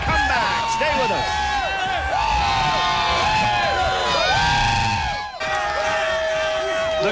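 A crowd at a roller hockey game cheers and whoops loudly and continuously, with shouting voices layered throughout and a brief dip before the noise swells again.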